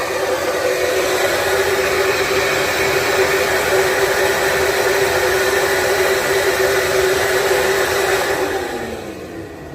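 A steady, loud rush of air pulled through a stock intake manifold runner on a flow bench, a constant broadband roar with a faint tonal whine that holds for several seconds before tapering down.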